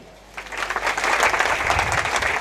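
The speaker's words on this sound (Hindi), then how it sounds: "बजाओ ताली" An audience at a public speech on Kalyan Road breaks into sustained clapping that swells quickly after a quiet moment and stays dense and loud to the end.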